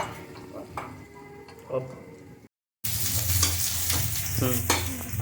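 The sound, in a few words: frying and stirring onions in pan for chicken biryani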